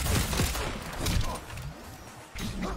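Gunfire in a video game, short bursts of rapid shots heard fairly faintly, then a brief pause before more firing.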